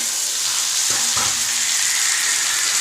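Tomato going into a hot pan of lightly browned onions for a Solanum nigrum greens dish, a continuous hiss of frying with a couple of quick stirring knocks near the middle, no talking.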